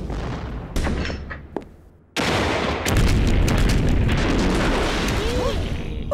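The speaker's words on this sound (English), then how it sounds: "My favorite CD, Military Explosion. All-time greatest hits and misses." Military explosions and artillery fire played from a CD, a loud barrage of heavy booms and crackling bursts that drops briefly, then resumes as dense continuous rumbling gunfire.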